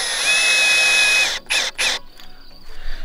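A power drill drives screws into roof ridge tiles, one long high whirring run followed by two short bursts, then quieter mechanical clicking, fairly close with no talking.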